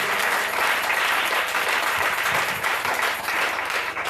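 A church congregation applauding loudly and steadily throughout, a dense continuous wash of many hands clapping with no pause.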